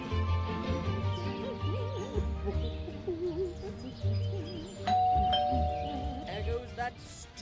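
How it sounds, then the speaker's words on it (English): A doorbell chimes in the Scary Teacher 3D mobile game, a synthetic ding-dong tone cutting in midway over game music and a character's voice. "There goes that stupid bell again."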